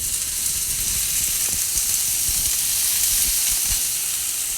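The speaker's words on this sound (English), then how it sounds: "And then I'm going to throw this in a pan." Thawed, drained frozen spinach sizzles in a hot pan with browning garlic: a loud, steady, close frying hiss that carries on without a break and with no talking.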